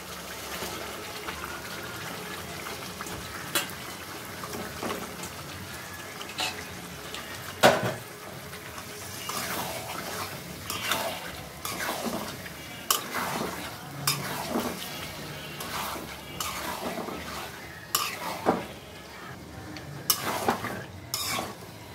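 Meat dropped into a pot of well-fried spice masala for biryani and stirred, with steady sizzling and scraping, clattering stirs against the pot throughout, close and fairly loud.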